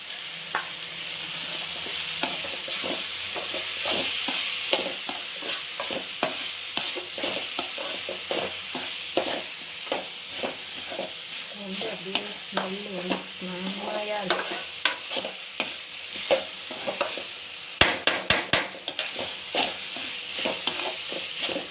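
Ginger garlic paste sautés in a pan for pasta, a constant close sizzle with frequent scraping and tapping of a spatula stirring throughout, and a quick burst of sharp knocks near the end; no one speaks.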